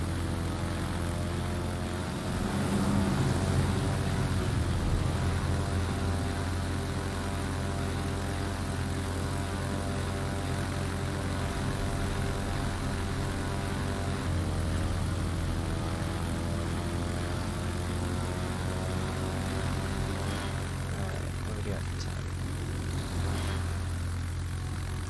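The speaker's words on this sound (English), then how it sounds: "these dive bombers are no joke on the Lowenhart" Propeller dive bomber engines droning steadily in a naval combat video game, a loud continuous roar with shifting pitch, swelling slightly around the fifth second, with no talk.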